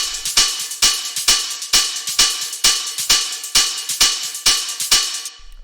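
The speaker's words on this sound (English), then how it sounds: "the last thing we have here are the hi-hats" Layered hi-hats in a dark synth techno track, a steady run of about a dozen crisp, bright hits at an even fast tempo, each with a short hissy tail, loud and alone.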